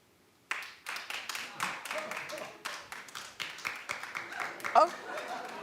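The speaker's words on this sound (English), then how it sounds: "Clap if she should stay and make him be a part." A talk-show studio audience breaks into steady clapping right after a sudden start, the applause rising and falling in waves for several seconds with a few voices and a whoop mixed in.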